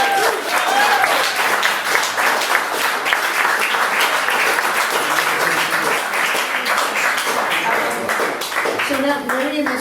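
An audience at a book launch applauds steadily for about ten seconds, dense clapping filling the room at a constant level, with some voices mixed in near the end.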